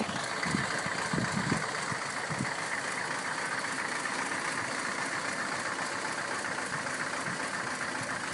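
A 1934 Packard Super 8 coupe straight-eight engine, fitted with mechanical valve lifters, idles smoothly at close range, a soft steady hum with a faint low rumble and a few quiet knocks early on, no speech.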